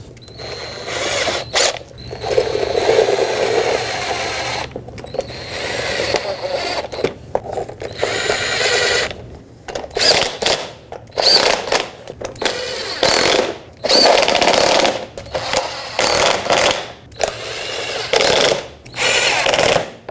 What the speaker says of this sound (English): I'm going to just start in all the screws, all the bolts first to make sure it's lined up, and then I'll go around and tighten them.